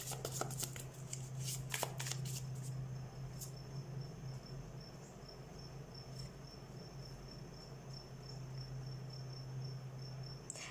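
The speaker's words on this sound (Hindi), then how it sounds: "let's shuffle the cards" Tarot cards are shuffled in a few quick, close riffling bursts at the start, followed by quieter handling, with a steady insect-like chirping tone and a low hum underneath.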